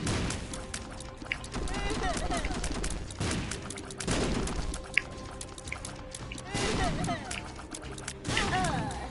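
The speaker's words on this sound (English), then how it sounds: "I walked into my bomb." A bomb blasts in The Binding of Isaac amid dense game effects and constant chaotic action, a loud crunching burst partway through, with other explosive hits and splashy sounds around it.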